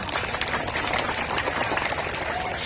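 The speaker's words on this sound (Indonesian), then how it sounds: "Tepuk tangan dulu dong" A crowd claps at a village Halal bi Halal religious gathering, dense rapid patter with a steady high hiss, heard briefly and fairly loud.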